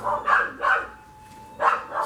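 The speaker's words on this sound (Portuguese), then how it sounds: "Os cachorros são bem eufóricos, os bichinhos lá fora." Excited dogs outdoors let out a run of sharp, moderately distant barks: two quick pairs, then a short gap before another close pair.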